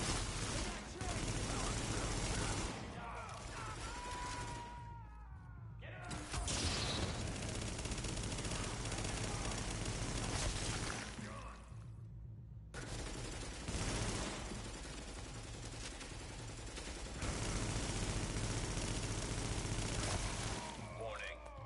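Sustained automatic gunfire from The Division, dense bursts of shooting filling most of the stretch with two short gaps, loud and continuous, with a voice speaking underneath at times.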